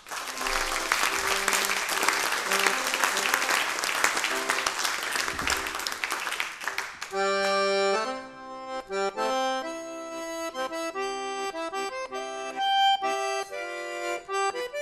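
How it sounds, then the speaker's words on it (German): An audience at a folk music gathering applauds yodel performers, a loud dense burst of clapping for about seven seconds that gives way to a tuneful instrumental passage. "Und diesen zwei einen riesigen Applaus,"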